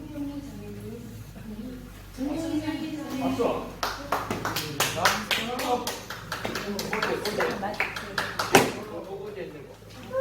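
A church congregation claps in a steady, close burst of rhythmic hand claps that swells and fades midway, with voices talking over it before and during the clapping.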